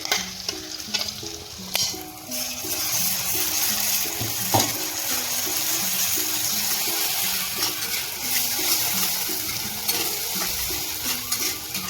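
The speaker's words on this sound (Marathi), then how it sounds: "आपले वाटण चांगले परतत आलेले आहे." Ground masala paste with onions fries in a pan for Kolhapuri misal, a steady close sizzle broken by repeated scraping stirs of a spoon against the pan.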